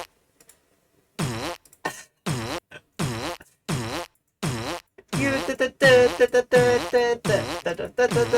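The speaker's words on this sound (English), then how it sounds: "based on the fart noise" A run of fart sound effects plays one after another, about a dozen rasping, buzzy bursts separated by short gaps, growing longer and louder toward the end.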